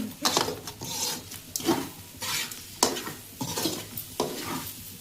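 A spoon or spatula scrapes repeatedly through a frying Vijayawada-style curry as masala powder is mixed in, with rhythmic stirring strokes over a steady sizzle, close and fairly loud, no voices.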